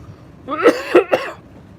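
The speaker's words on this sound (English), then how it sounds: "you go on for long enough and you start coughing" Three quick, raspy coughs in a row, close and fairly loud, with quiet before and after.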